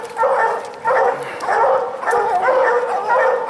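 Hunting dogs bay and bark at a treed raccoon outdoors, loud repeated howling yelps in steady overlapping bursts close by, continuing through the whole stretch.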